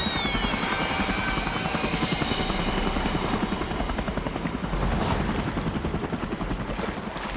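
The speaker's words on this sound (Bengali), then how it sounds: "এখনই আমার হেলিকপ্টার ওই বাড়ির কাছে নিয়ে চলো।" A cartoon helicopter flies over an island, its rotor blades chopping in a steady rapid rhythm that stays loud and constant throughout, with no speech.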